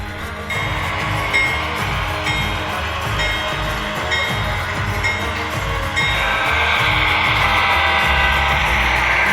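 A locomotive moving along the track to pick up two tank cars, giving a steady rumbling, clanking train sound that grows slightly louder toward the end, with no talk.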